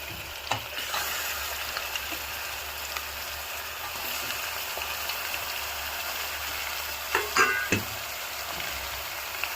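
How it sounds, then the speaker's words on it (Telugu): Half a kilo of mutton fries in a pan with cooked onion and tomato, making a steady, close, loud sizzle throughout, with a few clattering spatula stirs near the start and again toward the end. "ఇప్పుడు ఉల్లిపాయ, టమాటా వేగిపోయినాయండి. 1/2 కేజీ మటన్ వేసేసాను."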